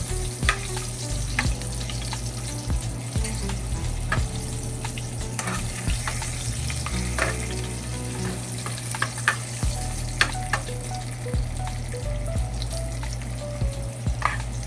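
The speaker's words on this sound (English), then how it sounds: "Burn some of the curry before putting the meat in." Curry powder frying and scorching in a pan before meat goes in, a continuous close sizzle broken by frequent stirring scrapes and clicks over a steady low hum.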